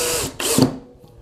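A Power Action BID20 cordless hammer drill whirs in two short bursts, near and loud, spinning up briefly and cutting off before the motor winds down to quiet.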